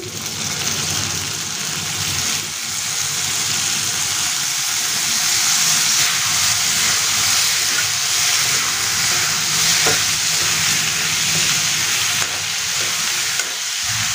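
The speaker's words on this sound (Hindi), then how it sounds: "दो तीन मिनट बैगन को तेल में फ्राई कर लेंगे" Eggplant pieces frying in oil with ginger, garlic and onion, a loud continuous sizzle with stirring scrapes throughout, close up and without talk.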